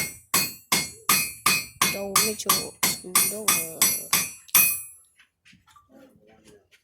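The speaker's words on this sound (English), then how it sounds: "and hammer the head onto it" Hammer blows striking a hot metal head at a forge, a quick regular series of a dozen or so loud ringing impacts, followed by quieter sounds and a brief spoken voice.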